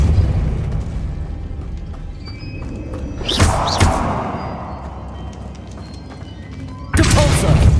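A Depulso spell cast in the Hogwarts Legacy video game bursts out as a sharp blast with a booming rush, followed near the end by a second loud burst over a steady game ambience.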